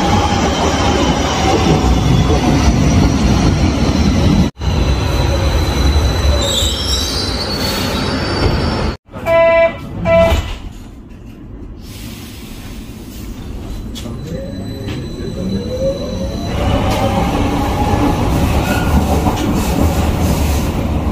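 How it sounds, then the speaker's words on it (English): A train arriving at a station runs loudly on the rails with a heavy rumbling roar. Its wheels squeal shrilly mid-way, and then the noise eases back to a lower rolling drone as it keeps moving. "Oh, my train is coming."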